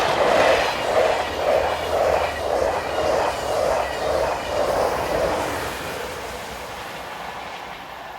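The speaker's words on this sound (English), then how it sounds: "TGV 4505 is next to appear on a Milano to Paris working." A TGV high-speed train on a Milan to Paris service passes close by, a steady rushing roar with a regular rhythmic beat of wheels over rail joints, easing and fading slightly toward the end.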